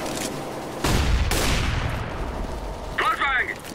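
A flashbang grenade thrown in CS:GO on the Inferno map sets off a loud broadband burst, then a second blast, with a brief chirping tone near the end.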